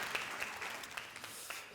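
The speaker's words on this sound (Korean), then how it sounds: "박수" Faint applause at a church youth service, a short soft patter of scattered clapping from a small group heard at a distance in the room.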